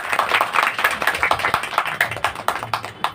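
Audience at a Brahma Kumaris class in Gwalior applauding, a steady burst of many hands clapping close by, dense and continuous for a few seconds with no talking.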